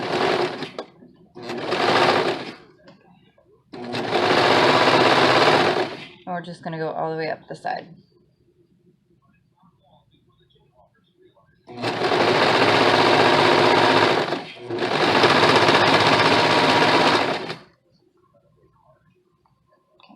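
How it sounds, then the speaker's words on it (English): Sewing machine stitching up the side of a garment through a thick pocket layer for a Simplicity 8519 project, running in several loud, sustained bursts separated by pauses, with a person speaking briefly between runs. "Going through the pocket right now, that's why it sounds like it's a little harder."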